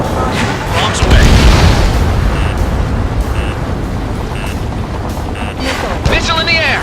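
Bombs explode in the Ace Combat 7 video game: a heavy boom hits early and rumbles into a sustained roar. Radio chatter and a few short beeps sound over it.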